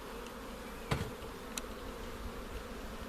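Honey bees buzz steadily around a beehive, a low, even hum filling the background, with a couple of brief louder passes close by.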